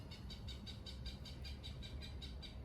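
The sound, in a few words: birds calling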